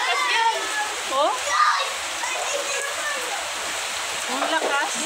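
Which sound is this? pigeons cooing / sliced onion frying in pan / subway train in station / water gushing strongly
water gushing strongly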